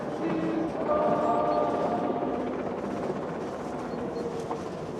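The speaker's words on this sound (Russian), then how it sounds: "мой первый швейцарский поезд" Swiss mountain train rolling steadily along its track, a continuous rumbling drone with faint squealing tones from the wheels and running gear, close and even throughout.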